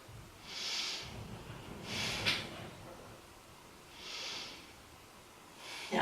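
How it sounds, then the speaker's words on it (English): Deep breaths during a yoga pose come as slow, soft, airy inhales and exhales, about three in a row at an even pace, quiet and close, with no talking. "Take 3 breaths here."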